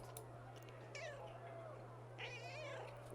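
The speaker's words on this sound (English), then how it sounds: "Cleo is meowing in my lap" A pet cat named Cleo meows twice, faint and close, from a lap, under someone talking and a steady low electrical hum.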